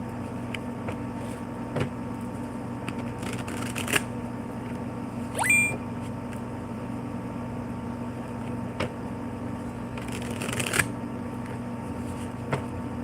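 A deck of cards being shuffled by hand: faint soft riffles and taps scattered over a steady room hum, with a brief louder burst near the middle and another toward the end, no talking.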